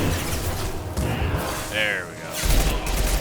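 A concussive shot goes off in the video game Mass Effect 2 as a brief booming blast among game combat noise, and someone speaks briefly over it.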